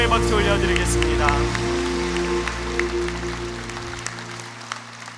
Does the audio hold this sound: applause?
yes